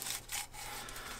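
A knife rasps and scrapes steadily through artichoke leaves as it trims out the ribs, quiet and close for a brief moment.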